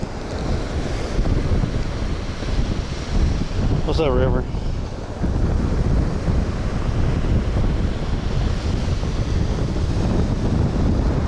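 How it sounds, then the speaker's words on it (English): Strong wind roars steadily across a Florida Gulf Coast beach with waves breaking underneath, buffeting the microphone throughout, while a voice briefly speaks near the middle. "It is freaking windy though."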